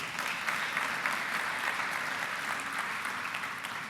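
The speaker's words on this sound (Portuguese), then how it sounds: "Aplauda Jesus mais uma vez." A church congregation applauds in praise during a worship service, steady dense clapping from many hands filling the room at even strength without a break.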